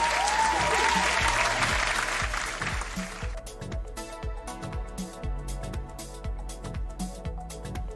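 Short burst of audience applause and cheering, dense and loud for about three seconds, then cut off and followed by a steady rhythmic musical beat.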